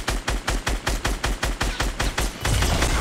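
Rapid automatic gunfire in the video game Fortnite, a steady burst of about a dozen evenly spaced loud shots, then a denser rumbling blast at the end, with no talking.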